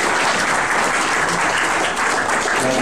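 Dense, loud applause fills a hall during an Indigenous Mesoamerican pre-congress, many hands clapping continuously and evenly with no voices rising above it.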